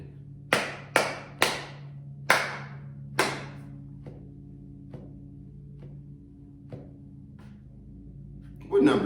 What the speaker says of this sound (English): we're gonna clap it one more time